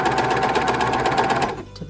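Sewing machine (serger) running steadily as it stitches a gathered skirt onto a bodice, a fast even mechanical whir up close that stops abruptly near the end.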